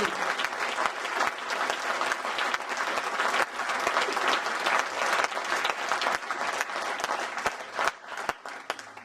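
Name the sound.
audience applause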